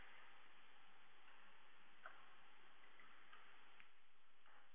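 A ticking clock built inside a video game: faint, thin ticks at a slow, even pace over a steady band of hiss, with no talking.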